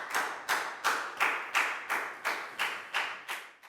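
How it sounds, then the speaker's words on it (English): Pupils in a Year 4 maths lesson clap together for a classmate in about ten slow, evenly spaced, unison claps, each sharp at the start and fading quickly, moderately quiet. "High five and a big round of applause for Down,"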